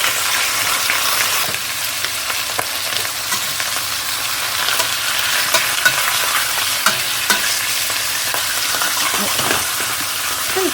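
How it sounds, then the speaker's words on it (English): Bone-in, skin-on chicken pieces searing in a pan, a loud, constant close sizzle with fine popping and crackling and a few stirring knocks throughout. "we're going to sear them for about 15 or 20 minutes on one side, and then turn them"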